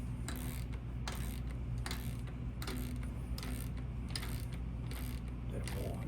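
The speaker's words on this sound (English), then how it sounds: "Take my torque wrench, put them on there." A torque wrench ratchets as it tightens valve train bolts on an engine, giving repeated clicking strokes at a fairly steady rhythm over a constant low mechanical hum, close and moderately quiet, with no talking.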